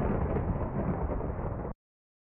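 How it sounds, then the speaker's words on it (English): Thunder during a storm, a loud broadband rumble that holds steady for under two seconds and then cuts off abruptly. "As soon as I start recording, it starts thundering."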